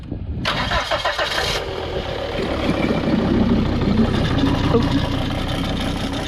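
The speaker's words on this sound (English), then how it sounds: "bleeding it is as simple as turning the engine on" A 2003 Volvo XC90 engine cranks briefly, catches and settles into a steady, loud idle running on without pause.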